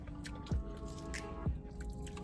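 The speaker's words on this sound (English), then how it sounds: "you gotta stop chewing so you can talk" Someone chews KFC Beyond Fried Chicken nuggets, two soft squishy bites with moist mouth sounds, close to the microphone and without speech.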